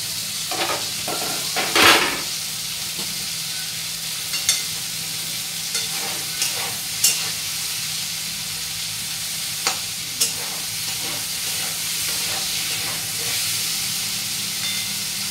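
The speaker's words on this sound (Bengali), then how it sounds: "এবার বেগুন ভাজাটা নামিয়ে নেব।" Eggplant frying in a pan on a home kitchen stove: a steady, loud sizzle and hiss that runs throughout, with scattered sharp pops and clicks of spatters or the utensil against the pan.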